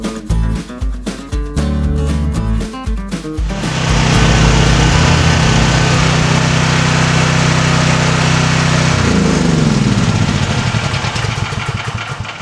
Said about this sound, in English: what I'm doing is just warming up the engine because I'm going to drain the oil